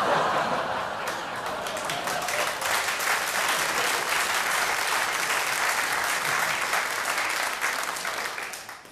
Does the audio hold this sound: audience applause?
yes